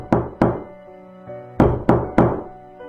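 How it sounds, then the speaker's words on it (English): A fist knocks on a wooden front door, two sharp raps, then a pause and three more, loud and resonant inside a quiet house. "Someone was knocking at the front door."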